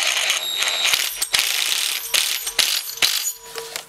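A hand ratchet clicks in quick, uneven bursts while tightening a 10 mm bolt on an air-cooled Honda Foreman 500 engine during assembly. The close, sharp pawl clicks repeat with short pauses, and no voice is heard.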